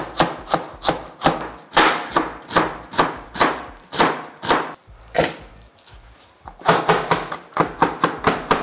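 Allspice (pimento) seeds and juniper berries crushed with a kitchen knife on a board for a Caribbean oxtail and lentil stew, heard as a steady run of sharp, close chopping knocks that pause briefly and then resume.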